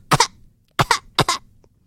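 A voice imitates a parrot coughing: three short, raspy double coughs in quick succession with brief pauses between them.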